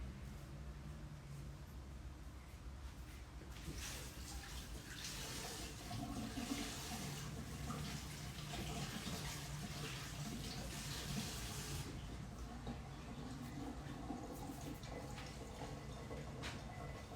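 Tap water runs steadily into a sink while spring onions are rinsed, a continuous faint hiss that swells in the middle and eases near the end.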